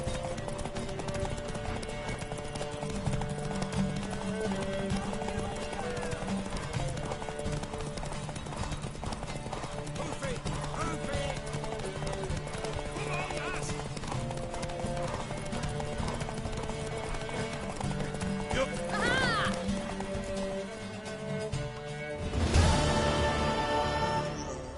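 Horse hooves clip-clop in a continuous rhythm through a race in The Witcher 3, joined by occasional whinnies and faint voices, with a louder burst of movement near the end.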